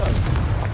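Confringo fire spell cast in Hogwarts Legacy, a short booming blast with a deep low rumble and crackling burst filling the whole moment, loud and close with no speech.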